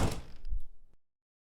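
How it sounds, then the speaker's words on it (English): A heavy door shuts in an audio drama, a single close thunk with a short rattle that cuts off abruptly into silence. "Leon shuts the door behind us."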